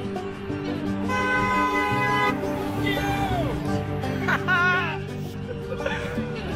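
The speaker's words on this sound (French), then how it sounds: "Et beaucoup klaxonnent effectivement." Car horns toot and blare in a long sustained chorus, mixed with crowd voices and some laughter nearby.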